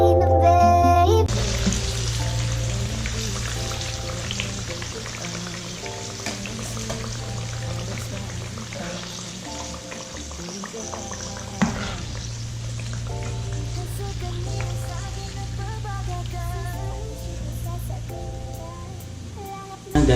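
Sweet potato browning in a pan, a steady close sizzle of frying that runs throughout with stirring noises and background music, one sharp knock partway through.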